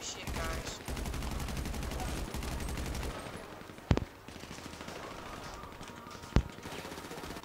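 Gunfire in GTA 5 comes as rapid bursts of shots early on, then two sharp isolated cracks later, fairly quiet under a background of game noise and light talk.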